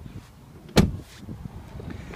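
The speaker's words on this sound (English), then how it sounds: "Sliding doors on both sides of the vehicle." A 2009 Mazda 5 minivan's sliding door: one sharp thud as it shuts, close by, with a faint mechanical rattle and quiet surroundings before and after.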